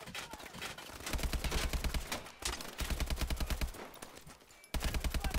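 Rapid automatic gunfire in the video game Call of Duty: Advanced Warfare, with fast regular bursts of shots repeating in several runs, separated by brief pauses, moderately loud against a busy game background.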